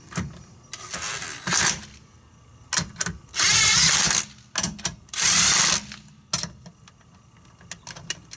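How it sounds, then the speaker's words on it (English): Impact gun snugging lug nuts onto a Honda Accord wheel during a tire rotation: several loud, close bursts of rattling hammering, two longer ones in the middle, split by short pauses and small clanks. "I'm going to use this impact gun just to snug them up"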